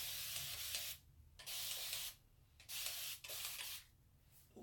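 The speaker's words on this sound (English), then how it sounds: "So I'm just going to spray this section with water" A spray bottle mists water onto a section of natural hair in a series of sustained hissing bursts, four spritzes with brief pauses between, close and clear.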